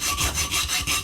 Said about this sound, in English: if you're just hearing the scratching from the file.